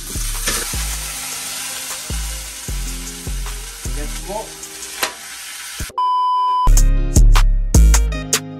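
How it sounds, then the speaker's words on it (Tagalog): Potatoes and carrots frying in hot oil, with a steady loud sizzle and repeated stirring clinks throughout, and a few sharp beeps near the end. "prito muna natin yung patatas at carrots"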